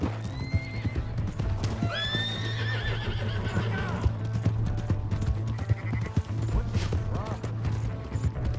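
A horse whinnies loudly and then again in the video game Red Dead Redemption 2, over rhythmic hoofbeats clip-clopping and shouting voices.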